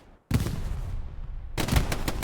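Heavy video-game gunfire from an 18-versus-18 competitive match: loud close bursts of rapid automatic fire broken by a short pause, then a second dense volley.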